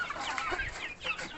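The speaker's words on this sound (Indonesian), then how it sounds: "Jadi ready ya anakan ayam kampung." Several young free-range village chickens cluck and squawk close by in a steady, busy flurry, with no talking.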